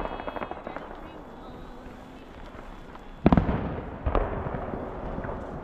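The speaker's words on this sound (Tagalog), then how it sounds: "Bagal naman ang fireworks na to." New Year fireworks heard from a distance, faint crackling and popping at first, then two sharp louder bangs with rumbling tails, with people chatting nearby.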